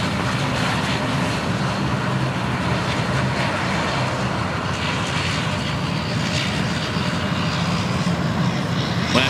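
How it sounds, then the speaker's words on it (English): Aircraft at Sydney Airport, a loud continuous jet engine roar that stays steady and broadband throughout, close and dominant with no voices over it. "Aircraft everywhere."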